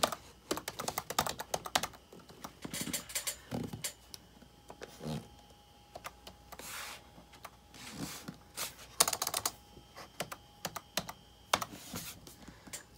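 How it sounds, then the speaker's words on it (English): Rapid clattering keystrokes on a laptop keyboard running Windows 9X-era Microsoft Memphis, coming in close bursts of typing separated by short pauses. "I will say, though, I do enjoy typing on this laptop."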